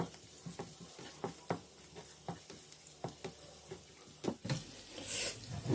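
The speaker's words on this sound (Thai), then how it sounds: "กระเทียมไปเจียว กระเทียมหอมแล้ว" Garlic frying in oil in a pan, a steady close sizzle broken by repeated sharp clicks of stirring, with a brighter hiss swelling near the end.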